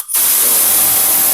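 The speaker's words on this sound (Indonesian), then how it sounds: "Kita semprot pakai angin." Compressed air blasts onto the engine head of a Vario 150 motor scooter, starting abruptly and holding as a loud, steady, close hiss.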